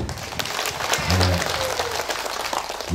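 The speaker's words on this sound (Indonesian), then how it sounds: "Tepuk tangan dulu Bapak Ibu." An audience at a gubernatorial campaign dialogue rally in South Sulawesi claps steadily for a few seconds, with a voice briefly heard over the applause.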